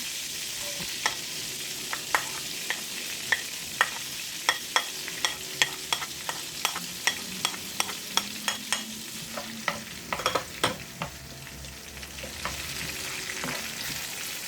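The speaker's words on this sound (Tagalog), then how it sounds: "Natunaw na at ilagay na natin yung sibuyas muna." Onions sauteing in melted butter for buttered chicken pastel, a steady sizzle with frequent sharp spoon scrapes and stirring knocks against the pan, fairly close, with no talk.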